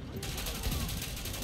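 Shotgun blasts in the third-person shooter The Division, heard as dense, loud gunfire and combat noise running steadily through the moment with little pause.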